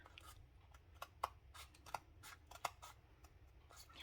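Scissors snip through a paper strip in a few quiet, separate crisp cuts spaced about half a second apart, with soft rustling handling noise between them in a hushed room.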